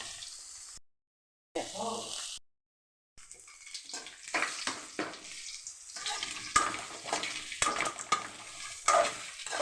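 Bitter gourd fries on a stove while being stirred, soft sizzling and scraping strokes following a couple of short gaps, with occasional sharper clinks of the utensil against the pan.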